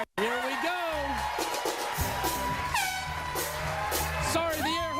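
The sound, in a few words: air horn starting a race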